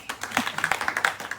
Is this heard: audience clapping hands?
yes